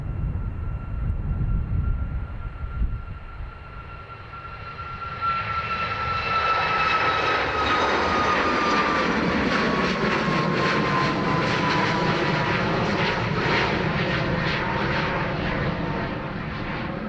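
An airliner takes off from runway 28 right at Dublin Airport, its engines building from a distant whine into a loud, sustained roar that fills the rest of the stretch.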